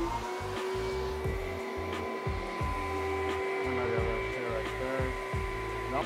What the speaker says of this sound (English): What it does is sucks it up and then turns on with the light.